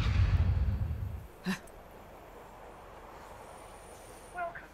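Train riding in the video game Bayonetta, a loud rumbling rolling roar for the first second that cuts off, followed by quiet ambience with a couple of short metallic clanks.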